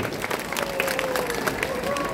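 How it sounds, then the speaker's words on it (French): An outdoor audience at a giant omelette festival in Malmedy applauds, with scattered claps and crowd noise forming a steady, moderately distant wash. "On les applaudit bien fort, très fort, très très fort."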